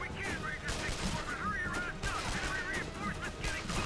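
Dense, continuous gunfire in a Sniper: Ghost Warrior match, with sharp cracks repeating throughout at fairly steady loudness and chirpy game effects mixed in.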